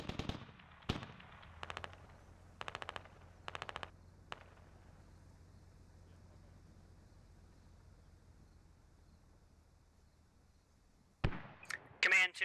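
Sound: bombing explosions on a compound in video game Squad

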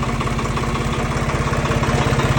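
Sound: tractor engine starting and idling

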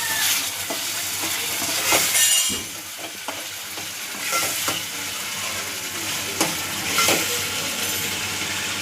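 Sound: mutton masala sizzling as it roasts in oil

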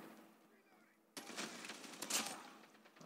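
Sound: automatic gunfire in Call of Duty Mobile video game

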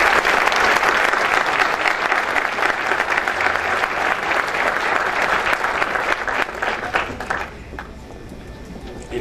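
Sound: applause at award ceremony

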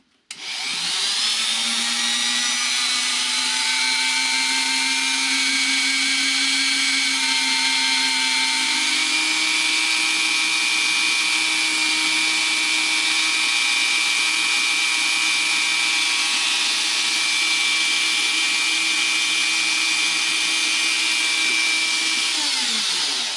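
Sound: rotary tool smoothing wire pendant ends

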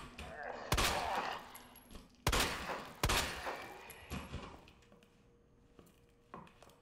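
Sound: shotgun shot from Resident Evil 2 video game

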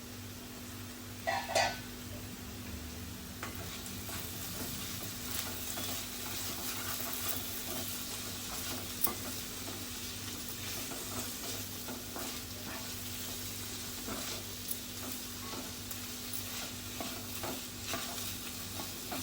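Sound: stirring bitter gourd bhaji in pan

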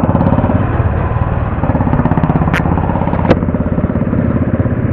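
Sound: motorcycle engine running

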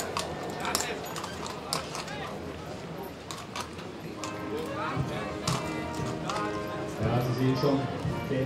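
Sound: horse hooves on cobblestones

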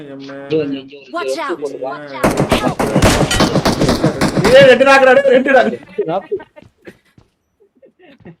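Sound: gunfire in a shooter video game

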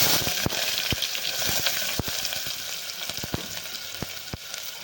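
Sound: chopped onion frying in oil with mustard and cumin

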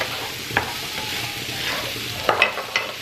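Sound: roasting food in a pan before garlic yogurt topping

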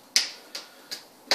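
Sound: percussive tapping massage on buttocks with hands

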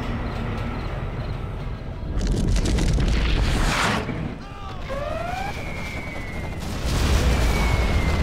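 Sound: Scud Storm missile launch from video game Command & Conquer Generals Zero Hour

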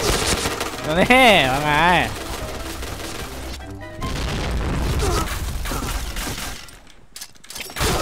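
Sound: MP7 submachine gun firing in Point Blank video game

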